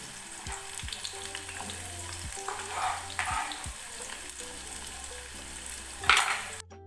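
Sliced shallots fry in oil in a pot while being stirred, a steady soft sizzle broken by repeated scraping strokes of the spoon and a louder clatter near the end.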